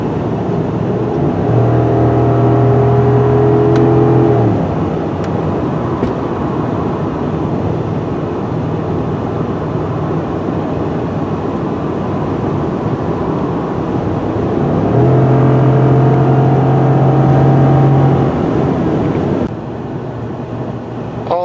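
2016 Ford F-150 Lariat's 5.0L V8 engine revs hard as the truck passes on a steep upgrade, with a sustained loud drone, rising engine tones early and again near the end, and steady road noise inside the cabin.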